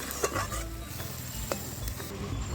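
Chopped onion sizzles in hot oil in a pan, stirred with light scraping clinks; a steady close frying hiss runs throughout with occasional utensil taps.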